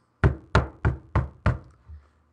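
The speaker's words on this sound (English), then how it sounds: "Again I knocked, perhaps a little more boldly." Five firm knocks rap on a ship's cabin door in a steady rhythm, near and loud with short resonant tails, followed by a fainter sixth thud and then quiet.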